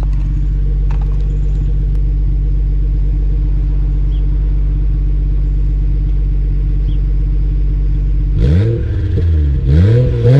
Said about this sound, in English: I want to give you guys a little rev.